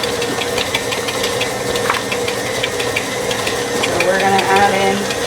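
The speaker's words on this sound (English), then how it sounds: "So you always want to start slow with the KitchenAid." KitchenAid stand mixer running at slow speed while making grasshopper cheesecake, a steady mechanical hum with rhythmic ticking and rattling throughout, fairly close and loud.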